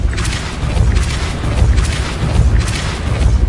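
Hogwarts Legacy video game Depulso spell blasts come as three or four loud, punchy booms in an even rhythm over a thick, continuous low roar, close and without speech.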